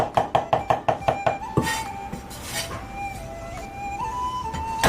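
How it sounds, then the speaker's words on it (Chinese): A cleaver chops a small piece of fresh ginger into fine bits on a board, giving about ten quick, sharp, evenly spaced knocks up close. Quieter kitchen noise and a faint tone follow. "生姜准备少许，用到撇锅， 剁成姜米和贝类。"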